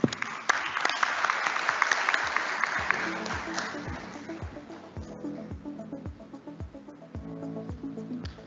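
Audience applause at an awards pitching session: a full round of clapping that starts loud and dense, then thins into slower scattered claps as it fades out over several seconds.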